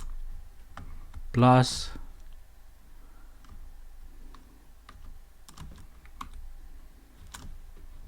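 Light, scattered clicks of someone typing code on a computer keyboard, close and fairly quiet, with a short spoken word near the start.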